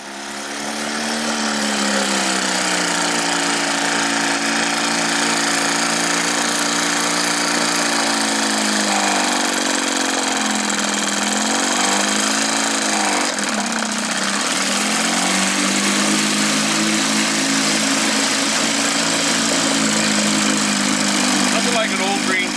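An old outboard motor runs loud and close for the whole stretch, a steady buzzing drone whose pitch dips and rises as the throttle shifts midway.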